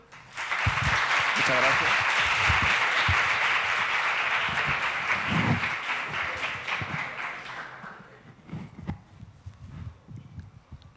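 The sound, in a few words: audience applause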